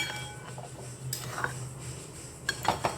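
Metal utensil clinks and scrapes against a pan as fried eggs are gently stirred into a potato egg curry, a few soft clatters building to sharper knocks near the end, close and fairly quiet.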